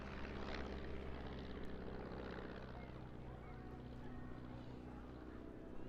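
Open-cockpit biplanes flying close formation at the Eastbourne International Airshow, a continuous loud propeller-engine drone heard from a distance with a faint voice under it.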